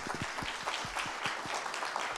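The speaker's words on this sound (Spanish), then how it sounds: "Un fuerte aplauso" Audience at a lecture on rental law giving a short burst of applause, scattered close claps over a soft, steady background of clapping.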